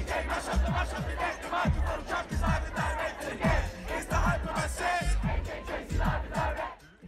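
A packed crowd at a concert roars and shouts continuously over a pounding, rhythmic bass beat, loud and dense throughout.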